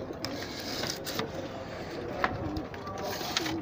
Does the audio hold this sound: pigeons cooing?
yes